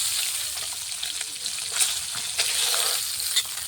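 Fresh fish fries in hot oil for a Bengali fish curry, giving a steady, dense sizzle with faint crackles throughout and no talking.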